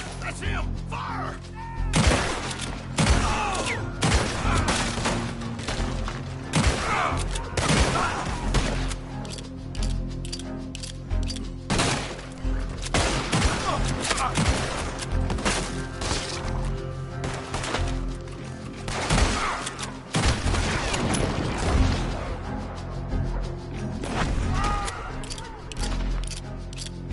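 Gunfire in the video game Red Dead Redemption 2 comes as dense volleys of repeated sharp shots throughout, loud and close, with voices shouting amid the shooting.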